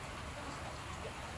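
Steady broadband rain falling outdoors near a makeshift kitchen, an even continuous hiss with no clear drops standing out, faint and constant throughout.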